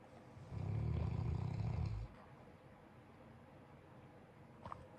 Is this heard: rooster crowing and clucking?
no